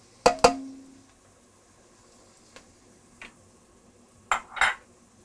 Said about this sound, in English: Just roll it around till you cook out that flour taste